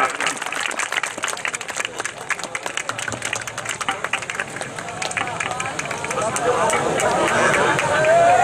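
An audience at an evening ghazal mushaira poetry gathering in Khedupura, Mau, claps steadily and densely, with the applause building louder toward the end.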